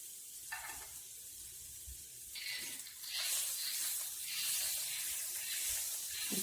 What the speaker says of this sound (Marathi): आता हे ब्राऊन व्हायला लागले, त्याच्यात टोमॅटो टाकलं